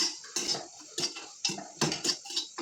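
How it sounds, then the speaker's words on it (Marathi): Dry coconut is roasted in a pan while a metal spatula stirs it, giving quiet, irregular scraping clinks and light rattles, close up and fairly soft. "आपण ही खोबरं छान असं खरपूस भाजून घ्या"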